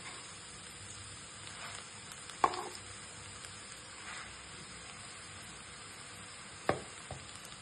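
Peanuts sautéing in a pan before spinach goes in, a faint steady sizzle with a couple of sharp clinks of a spoon against the pan.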